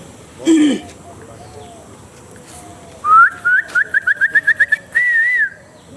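A man whistles an imitation of a village bird's call: a short low note, then a rapid run of about eight chirpy whistled pips ending in a wavering trill, loud and close.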